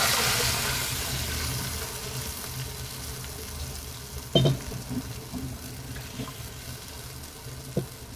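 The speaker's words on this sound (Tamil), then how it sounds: "இப்போ மசாலாவை அப்படியே அதில் ஆட் பண்ணிக்கலாம்." Masala paste going into onions frying in a pan for a Tamil fish curry, giving a steady low sizzle throughout with a sharper burst of crackle about midway and a few faint stirring knocks.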